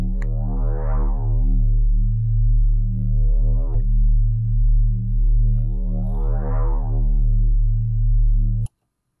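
A minimal tech drum-and-bass synth bass built with Ableton Live's Operator and stock effects plays alone, two long sustained notes with a filter sweeping open and closed, ending abruptly.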